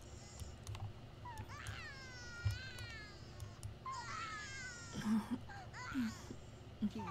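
A kitten in The Sims 2 video game gives several high, wavering meows in quick succession, with soft game clicks and background sounds underneath.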